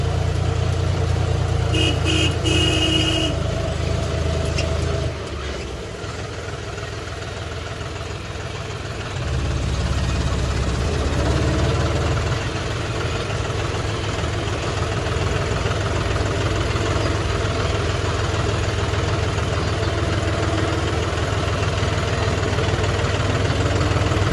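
A John Deere tractor engine runs steadily at close range on a village CC road during soil-hauling trips, a loud continuous low rumble with a brief dip in level midway, no talk.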